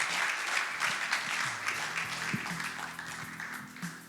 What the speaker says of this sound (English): give him a nice warm round of applause